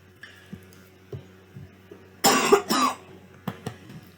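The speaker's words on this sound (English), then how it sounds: "I had a little cough there." A short burst of coughing, two or three quick rough coughs close to the microphone, with faint clicks and a quiet room around them.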